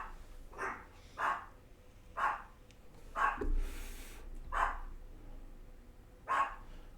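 Several dogs bark outdoors in bursts spread through the span, sharp barks at irregular intervals with low rumble between, no talking.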